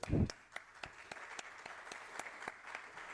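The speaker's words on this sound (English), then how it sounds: "Voilà, applause" A brief burst of scattered clapping from a small audience at an EU mining regions project meeting, thinning quickly into a few sparse, evenly spaced claps that stay fairly faint in a quiet room.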